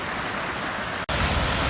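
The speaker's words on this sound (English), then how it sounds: "I've always known it as Farmington Canyon Waterfall" Farmington Canyon waterfall on Farmington Creek in Utah gives a steady, full rush of falling water heard up close, with one split-second dropout partway through.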